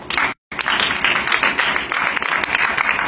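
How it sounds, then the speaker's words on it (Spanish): Applause from a church congregation during a sermon on prophetic worship, a lively, dense wash of clapping, briefly cut out near the start, then continuing loud and uneven to the end. "Denle un aplauso al Señor"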